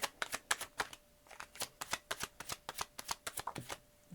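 Tarot cards are shuffled up close in a quick, steady run of crisp riffling snaps and flutters that keeps going for several seconds, with no voices.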